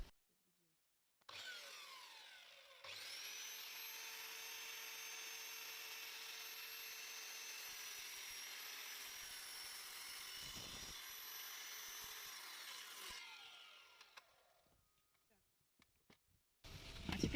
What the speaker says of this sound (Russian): У меня торцовочная пила. Сейчас я на ней распилю эту доску.